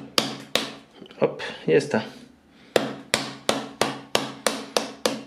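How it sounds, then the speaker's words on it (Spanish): A hammer strikes green wood to split it: a few scattered knocks, then a steady run of sharp, close, evenly spaced taps. Someone speaks briefly between the early blows. "Y con un martillo voy a golpear un poquito."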